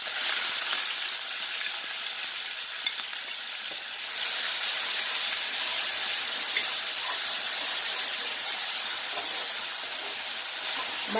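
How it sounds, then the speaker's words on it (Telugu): Onion paste frying in hot oil with mustard seeds and curry leaves for a peas masala curry, giving a steady, loud, continuous sizzle and steamy hiss with no talking. "ఆవాలు వేసుకోవాలి, కరివేపాకు, ఎర్రగడ్డ పేస్ట్ వేసుకోవాలి."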